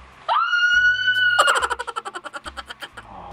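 In a Call of Duty match a sustained shout rings out, then breaks into a rapid series of loud, rhythmic pulsing yells that fade slightly toward the end.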